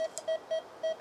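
A metal detector sweeping in a forest gives a signal: a series of short, steady electronic beeps repeating in a quick pulsing rhythm, clear and close, with no voices.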